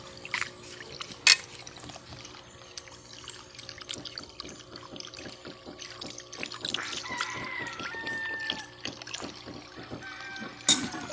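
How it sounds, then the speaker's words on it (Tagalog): Water gushing from a leaking PE pipe at a G.I. union coupling, a steady splashing rush that strengthens partway through, close and continuous with a few sharp knocks. "lumakas yung tubig"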